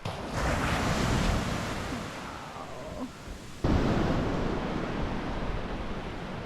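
Calm sea washing gently onto the sand at Whangamau Bay on the Tutukaka Coast, a steady soft surf hiss with wind buffeting the microphone and a brief dip partway through.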